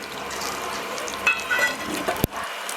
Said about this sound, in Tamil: இப்போ பாருங்கள் தாளிப்பு போட போகிறோம்